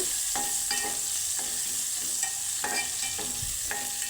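Finely chopped onion fries lightly in a pan for sambar, a steady close sizzle broken by several sharp scraping stirs at irregular intervals.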